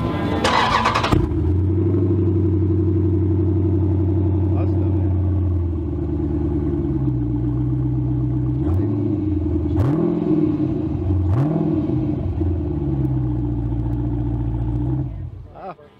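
A Dodge 392 V8 with a loud custom exhaust rumbles steadily at close range for about fifteen seconds, its low drone shifting slightly in pitch with a few light blips, before cutting off at the end.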